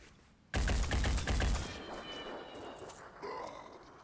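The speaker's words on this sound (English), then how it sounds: "Let's try shooting him." Gunfire in the turn-based tactics game Phoenix Point, a sudden loud burst of shots that fades into a lingering tail over a quiet game background.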